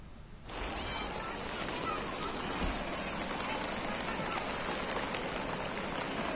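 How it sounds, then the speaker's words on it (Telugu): Heavy, steady rain pours down without a break in the Nalgonda area, a dense continuous hiss that starts abruptly and holds at an even level throughout. "వికారాబాద్ జిల్లాలో రాత్రి నుంచి ఎడతెరిపి లేని వర్షం కురుస్తోంది."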